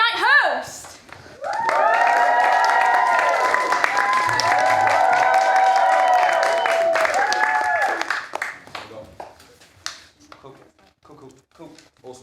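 A theatre festival audience erupts in loud whooping cheers and clapping for the late-night host, a sustained burst of several seconds that breaks off into scattered claps and fades out.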